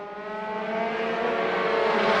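Race cars screaming through turn 1 during a circuit race, a loud rising engine whine with a steady harmonic tone as the pack comes by close.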